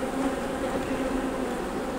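Agitated honey bees buzz densely and continuously close by during a hive inspection in western Oklahoma, a loud, unbroken drone with no speech.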